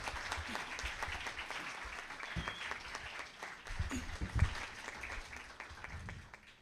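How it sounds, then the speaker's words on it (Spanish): Audience applause after a social psychology conference, sustained clapping from a crowd filling the room, steady with small swells. "al cual le pido un gran aplauso."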